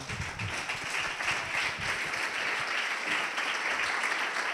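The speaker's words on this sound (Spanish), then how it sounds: "un fuerte aplauso a José Abel Bote, Internet of Agriculture." An audience claps for a speaker at a PechaKucha Night in Salamanca. The dense, even applause is steady and moderately soft throughout, with no voices over it.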